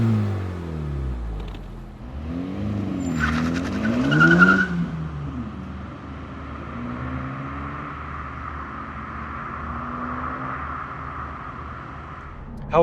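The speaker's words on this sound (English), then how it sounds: "Honda does say that they've tuned the exhaust to make it a little bit louder than the previous generation" A 2024 Honda Civic Type R's exhaust and engine rev and pull hard, with a tire squeal near the start, then settle into a steady, moderately loud drone, its engine sound electronically enhanced in the cabin.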